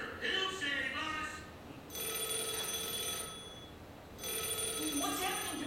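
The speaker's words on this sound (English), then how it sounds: "It's a phone call, dingus." An iPhone rings in an animated cartoon, a steady electronic trill in two bursts separated by a pause, with voices heard just before the ringing starts.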